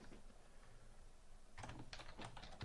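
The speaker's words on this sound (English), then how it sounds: "I can just start typing here." Keys clatter on a computer keyboard during software interface work, a quiet patch giving way to a burst of fairly close clicks in quick irregular succession from the middle onward.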